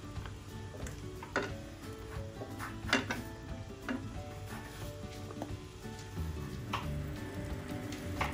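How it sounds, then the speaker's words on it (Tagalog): Ingredients for beef kaldereta are stir-fried in a pan, giving a steady close hiss of frying with scattered ticks and clinks from a utensil against the pan. "Saka natin siya igisa,"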